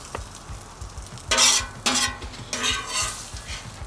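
Eggs frying on a Weber Slate outdoor griddle, soft background sizzle with a few loud bursts of spatula scraping and clatter against the metal surface, nobody speaking.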